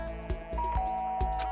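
A doorbell in the Danganronpa video game chimes with a bright two-tone ding-dong, its tones repeating and ringing out over a steady, sustained musical backdrop with no talking.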